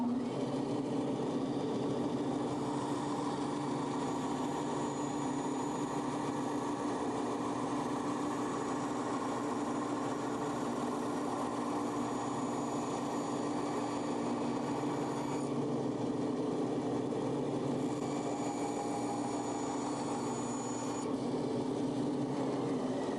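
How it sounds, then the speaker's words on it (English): A bandsaw runs steadily in a knife-making shop, a continuous mechanical hum with a faint high whine, level and unbroken for the whole stretch with no talking over it. "One thing that's very important when you're dealing with a bandsaw"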